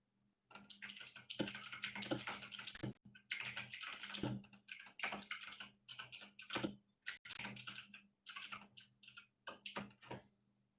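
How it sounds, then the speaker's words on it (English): A clacky computer keyboard being typed on, with bursts of rapid crisp key clicks broken by short pauses, close and fairly quiet, with a faint steady hum beneath. "he's got a clacky keyboard"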